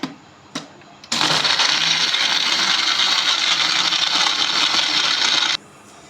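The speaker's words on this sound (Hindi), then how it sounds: "तो चलें जी, इन सभी चीज़ों को मैं करूँगी अच्छी तरह से ब्लेंड।" An electric blender whirs loudly and steadily for about four seconds while blending mint margarita ingredients with black salt and mint, after a couple of short knocks, then cuts off abruptly.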